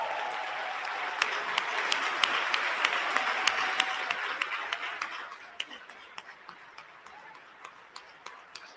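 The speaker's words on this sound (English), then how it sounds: "Let us stand, please, and applaud Reverend Jackson and his family." A standing audience in Chicago applauds during a speech ahead of MLK Day. The dense clapping swells, then gradually thins and fades, with sharp scattered clicks cutting through and continuing as the applause dies down.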